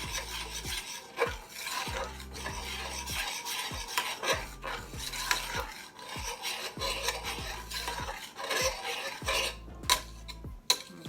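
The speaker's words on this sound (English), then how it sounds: "we're gonna mix those up into the sauce so we can get a nice consistent blend of all the ingredients" Blueberry BBQ rib sauce ingredients being stirred together with a utensil in a pot, giving repeated scraping, rasping strokes in a steady rhythm with occasional clinks against the side, close up and with no talking.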